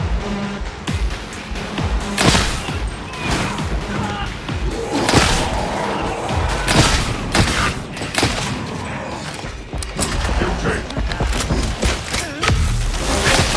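A grenade goes off amid a chaotic firefight in Darktide, heavy thuds and crashing bursts layered over rapid gunfire, with voices calling out over the din.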